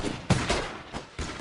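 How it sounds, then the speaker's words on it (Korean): Gunfire in a period film scene, with four or five sharp, loud shots spaced irregularly over a second and a half, each a broadband crack rising out of a rumbling background. "뒤늦게 총소리를 듣습니다"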